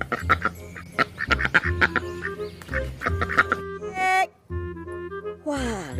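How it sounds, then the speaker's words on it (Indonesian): A duck quacks in a series of short, nasal calls mixed with other bright tonal sounds, with a brief pause partway through. "ada seekor bebek."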